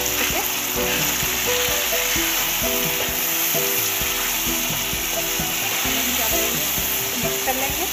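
Beef karahi masala with a splash of water sizzles and hisses steadily in a hot pan as it is stirred, a continuous close frying crackle with faint scraping underneath.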